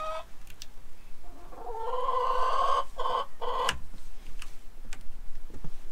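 Chickens cluck and squawk inside a coop in snowy weather, a steady close chorus with one louder drawn-out call in the middle and scattered sharp clicks.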